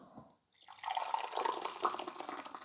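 Coffee pours from a carafe in a steady, close trickle for a couple of seconds after a brief pause, splashing softly as it fills a cup.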